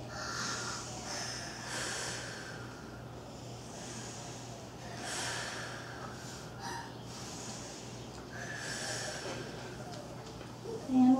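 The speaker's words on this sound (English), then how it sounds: "take three deep breaths" Slow, deep breaths from people lying flat on the ground at the end of a yoga session, soft repeated inhales and exhales over a faint steady hum, close and quiet.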